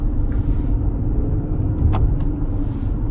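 A 2011 Infiniti M37x V6 car drives in fifth gear, heard as a steady low engine and road rumble from inside the cabin, with a few faint clicks and knocks above it and no talking.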